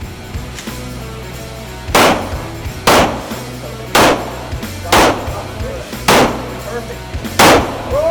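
Pistol shots ring out at a shooting range, seven loud, evenly spaced reports each with a short echoing tail, close to the listener over steady background noise.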